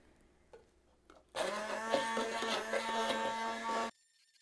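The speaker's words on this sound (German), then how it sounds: "Das Ganze pürieren wir jetzt ganz fein." Blender whirring loudly for about two and a half seconds as it purees cooked spinach finely, starting abruptly and cutting off sharply, with faint clicks beforehand.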